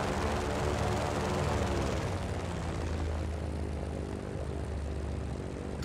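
A propeller airplane engine in the Just Cause video game drones loud and steady while coming in to land, a dense continuous roar that eases slightly toward the end, with no talk over it.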